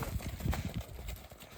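Hooves of a working mare clip-clop in a quick, uneven rhythm close by, several hoofbeats over a short stretch with some background noise.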